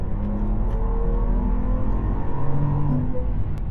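A Maybach S680 V12 in sport mode hums and builds revs while accelerating on a highway, a low smooth engine drone under road and tyre noise, steady and close inside the cabin.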